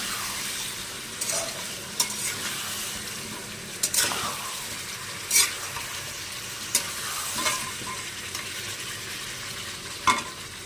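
Mutton with tomato and beaten yogurt is sautéed in a pan at home, giving a steady close sizzle broken by periodic scraping stirs roughly every second or two.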